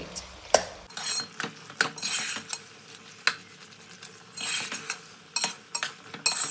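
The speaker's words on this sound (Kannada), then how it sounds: "ಸಾಸು ಮತ್ತು ಪಾಸ್ತಾ ಎರಡು ಮಿಕ್ಸ್ ಮಾಡಬೇಕು ನೀಟಾಗಿ ಮಿಕ್ಸ್ ಮಾಡಿದ್ರೆ" Pasta and sauce mixed together in a pan with a utensil, giving repeated metallic clinks and scrapes against the pan over a soft sizzle, close and steady with no talk.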